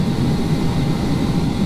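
A steady, loud low drone of an aircraft engine at idle throttle on approach in Flight Simulator X, constant and unbroken for the whole short stretch.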